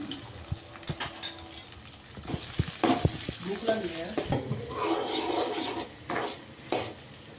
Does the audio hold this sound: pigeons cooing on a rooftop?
no